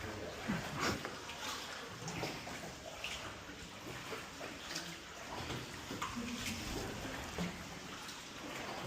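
A boat cruises along a river, its hull pushing through the water in a steady rush of splashing and churning that runs the whole time, with faint voices mixed in.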